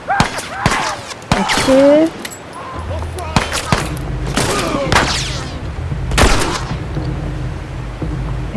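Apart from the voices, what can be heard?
gunfire in the video game The Last of Us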